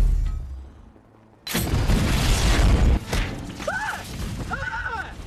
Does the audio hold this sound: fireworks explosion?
yes